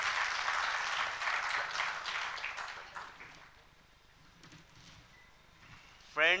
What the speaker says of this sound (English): please give a round of applause to Mr. Pradeep